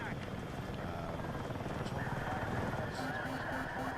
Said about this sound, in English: kill this helicopter